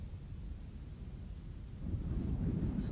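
A thunderstorm in the video game Life Is Strange gives a steady low rumble of rain and distant thunder that swells louder toward the end, with no voices over it.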